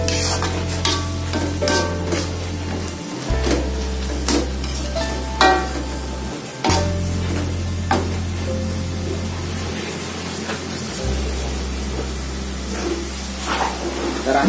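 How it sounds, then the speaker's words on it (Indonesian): Food is stirred in a cooking pan, with continuous frying sizzle and scattered scraping clinks of a utensil against the pan, while a steady low hum runs underneath throughout. "kita aduk sampai rata."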